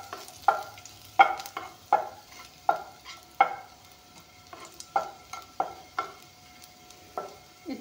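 Garlic fries in oil in a pan, a low sizzle broken by about a dozen sharp, regular scraping strokes of a stirring spoon, close and alone.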